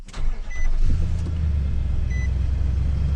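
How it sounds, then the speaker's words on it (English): A 2019 Nissan Titan pickup with a single rear exhaust outlet starts up and settles into a deep, steady idle rumble, loud and close, with no talking. "Exhaust note is quite nice too."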